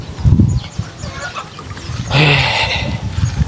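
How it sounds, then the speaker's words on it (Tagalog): Chickens on a farm, under a tree, give short clucks and squawks, with one louder drawn-out call midway, close by and mixed with some voices. "marami din mga manok dito si pare"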